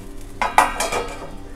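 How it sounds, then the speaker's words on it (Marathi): A lid set down on a pan of sorghum ambolya on the stove, a brief clatter of metal over a soft sizzle, close and fairly loud, with no talking. "आता याच्यावर आपण झाकण ठेवायचं आहे थोडा वेळ."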